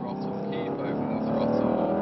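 A Mercedes C63s engine pulls under throttle on a race track, a steady loud drone that rises slightly over two seconds.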